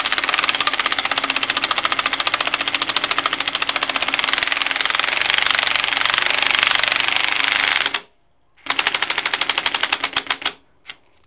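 A motorcycle front fork part being tightened with a rapid, loud impact-wrench-like rattling that runs continuously, cuts off abruptly, then returns in short bursts before stopping.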